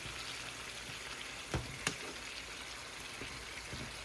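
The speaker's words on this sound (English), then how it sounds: "We're gonna let the garlic cook down a little bit." Garlic cooking in melted butter in a pan gives a steady, soft sizzle throughout, with a couple of faint clinks of a utensil near the middle, heard alone without speech.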